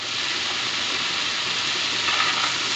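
Soaked chana dal hitting hot oil and a cooked-down spice paste for an egg and chana dal curry, giving a steady, close, loud sizzle that holds evenly throughout with no talking.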